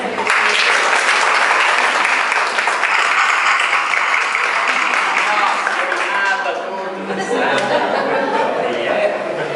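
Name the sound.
audience applause for Ana Cristina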